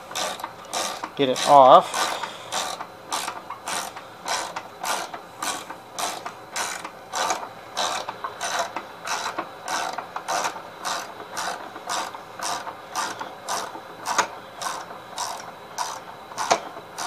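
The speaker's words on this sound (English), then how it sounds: "9/16 wrench." A 9/16 wrench ratchets steadily on the belt of an 87 Gravely 12G tractor, giving a long run of sharp, evenly spaced clicks close by, with a brief spoken remark.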